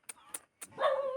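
A dog, seen along the Mt. Ayaas trail in Montalban, Rizal, lets out a few short yips followed by a whiny, drawn-out bark, near and fairly soft.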